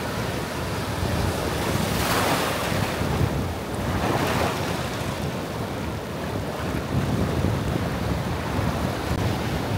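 Ocean waves roll onto a Konkan beach, a continuous loud wash of surf with two broader swells building and breaking early on, mixed with steady wind buffeting the microphone and no voices.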